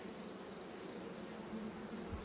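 A few honey bees drone softly on a brood frame lifted from a six-frame nucleus hive, a faint, steady buzz with a high whine running throughout and no talk.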